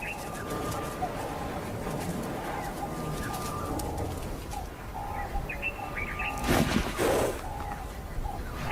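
Oxpecker birds feeding on buffalo on an African savannah give short, faint chirping calls, scattered over a soft, continuous outdoor background.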